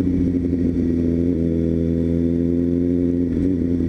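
A Suzuki GSX-S750A motorcycle engine hums at a steady, low idle, close and continuous, with a slight shift partway through and no one speaking.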